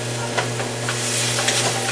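Chicken fried rice sizzling in a hot pan after a little more oil goes in, with a loud, steady frying hiss and crackle punctuated by soft scrapes of stirring, close up.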